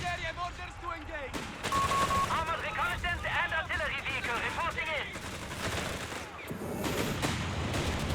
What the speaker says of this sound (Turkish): Ama çok makineli tüfek yapmış ya.